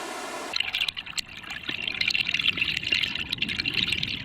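Water flows in a mountain valley stream, a soft continuous trickle and burble heard fairly faintly, with small splashes throughout.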